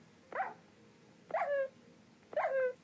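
A dog in the Minecraft video game whimpers three times in a row, each a short, clear tonal whine spaced about a second apart, close and alone with no talk over it.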